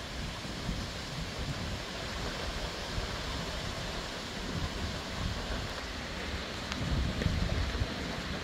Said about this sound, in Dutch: Harde wind hier.